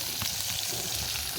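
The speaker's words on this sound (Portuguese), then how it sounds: "Vou botar a carne agora pra assar." Meat sizzling and frying over an improvised campfire at a rural property on a Saturday night, a steady close crackling hiss that runs throughout with no talk.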